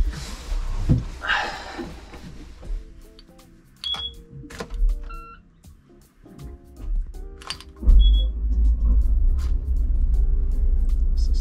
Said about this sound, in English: Just going for a little test drive, just to show you a little bit how it's like driving it